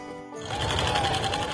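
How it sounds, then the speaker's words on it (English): A domestic sewing machine runs at home, starting after a brief pause and then whirring steadily with a dense mechanical hum and rapid stitching rattle, close and alone. "But I just like coming home and sewing."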